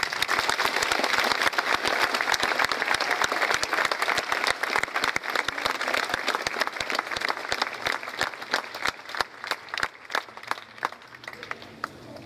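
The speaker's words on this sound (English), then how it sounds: "let's give these men and women a round of applause" A crowd at a Dunedin High School 9/11 memorial ceremony gives sustained applause for military veterans: dense, even clapping from many hands that continues for about twelve seconds and thins slightly toward the end.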